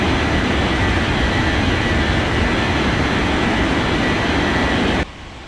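A jet airliner roaring loudly and steadily on the runway during its takeoff roll, a dense broadband engine rush that holds constant before cutting off abruptly near the end.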